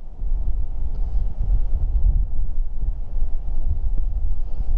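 Strong gale-force wind gusts across the microphone beside the water on a cold early-season fishing day, a loud low rumbling buffet that surges and eases with no speech.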